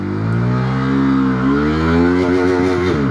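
A Bajaj Pulsar N160 motorcycle accelerating hard in first gear, its engine note rising steadily in pitch with strong harmonic drone, loud and close throughout with no talking.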